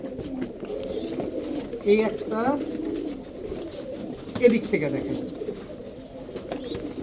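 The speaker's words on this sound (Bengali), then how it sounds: "140 পিস পাকিস্তানি কবুতর, হাই ফ্লায়ার কবুতর" Pakistani teddy pigeons, high-flyer birds in a crowded loft, coo steadily in low rolling phrases, with someone speaking over them close by.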